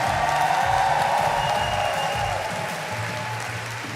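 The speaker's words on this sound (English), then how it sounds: "please give them an even more massive round of applause" Large arena audience applauding at a Pokémon championship, dense sustained clapping and crowd noise throughout, easing slightly near the end.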